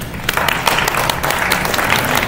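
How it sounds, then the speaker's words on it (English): A live audience at a startup pitch event breaks into dense, loud applause for a short burst, with no talk over it. "Let's give a big round of applause to Mike."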